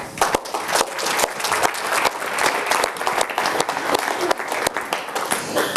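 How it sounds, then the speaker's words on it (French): A studio audience applauds a guest on a French television discussion show, steady dense clapping filling the whole stretch, loud and close, with a voice faintly underneath. "je vous demande d'applaudir Christophe Urvois-Isaac"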